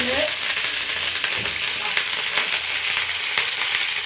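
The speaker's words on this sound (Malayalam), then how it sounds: "കുറച്ച് കറിവേപ്പില ഇടുന്നുണ്ട്." Curry leaves dropped into hot oil with mustard seeds, a loud, dense, continuous hiss and crackle of frying, close and steady, with faint stirring underneath.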